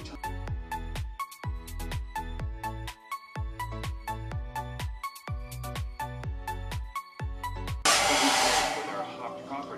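A hair dryer on its cool setting, drying hair, switches on near the end as a loud, close, steady whoosh of blowing air, taking over right after a stretch of rhythmic music.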